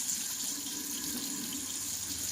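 Warm water runs steadily from a bathroom sink tap, a continuous close hiss and splash with no talk.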